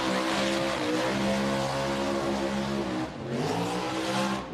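A car's engine revs hard and continuously during a smoky burnout at Summernats in Australia, a loud sustained roar with slight dips in pitch, heard without talk.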